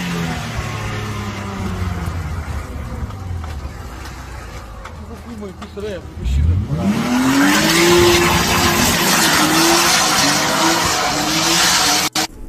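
A clamped car's engine revs and tires screech in a skid as it spins out, the squeal rising sharply midway and holding, with a jolt near the end as it hits the curb.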